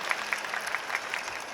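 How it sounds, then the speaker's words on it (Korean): Audience applause for an actress at an open talk at the Busan International Film Festival, a fairly faint, steady patter of clapping that holds through the brief moment without any voices. "최희서 배우님께 뜨거운 박수 부탁드립니다."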